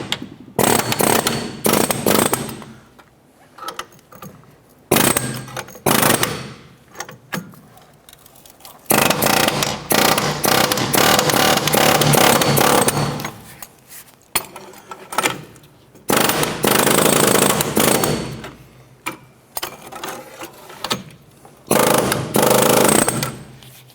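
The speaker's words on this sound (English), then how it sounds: "we're just going to use our air chisel, and we're just going to get between the knuckle and the head of the bolt" Air chisel hammering between the suspension knuckle and bolt head on a 2006-2013 Chevrolet Impala rear strut job, loud rapid pneumatic bursts of several seconds each, starting and stopping repeatedly with short gaps.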